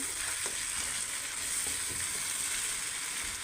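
Mutton being sautéed in a pan for Kashmiri rogan josh, giving an even, hissing sizzle with faint occasional stirring taps and no voices.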